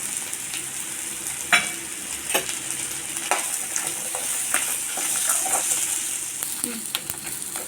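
Ingredients for a Tamil fish curry (meen kulambu) frying and being stirred in a pan, a steady broadband sizzle with scattered scraping clicks of the spoon, close and fairly even throughout.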